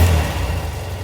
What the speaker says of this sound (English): It's not warmed up yet, but she'll rev up.